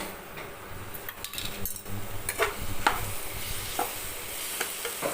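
Tomato, onion and coconut sautéing in a pan for cabbage chutney, with a soft steady sizzle and several sharp scrapes and clinks of a spoon stirring against the pan, close and alone with no voices.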